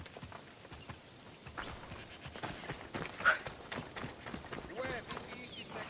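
Horse hooves clip-clop in a steady running rhythm through the Assassin's Creed Odyssey game world, mid-level and continuous, with game ambience beneath and a short chime partway through.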